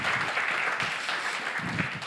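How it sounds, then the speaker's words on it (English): An audience at a university student-life event gives a round of applause, a dense, steady patter of many hands clapping at moderate volume throughout. "So give a round of applause to Sasha from ESN Tallinn."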